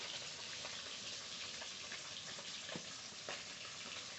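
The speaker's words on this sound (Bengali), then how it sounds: "মাছ ভাজা হতে থাকুক" Pieces of silver carp fry in hot oil in a pan, giving a quiet, continuous crackling sizzle with occasional small pops.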